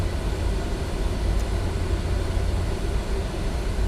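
Jet engines on an E-Jet airliner in Microsoft Flight Simulator 2024, spooling up to takeoff power under autothrottle, a steady, loud broadband roar with a low rumble that holds constant throughout.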